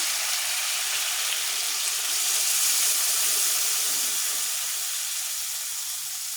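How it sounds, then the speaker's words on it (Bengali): Broth poured into a hot pan of cooking bottle gourd with sarputi fish gives a steady, fairly loud hiss of steam and bubbling that fills the whole stretch, swelling slightly midway, with no voices. "সামান্য পরিমাণে ঝোল দিয়ে দিলাম ঝোল"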